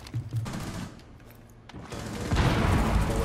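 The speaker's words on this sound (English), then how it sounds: "Throwing frag grenade." Video game combat with a frag grenade thrown: scattered gunfire bursts, then a louder explosive blast and rumble swelling near the end, with no voices.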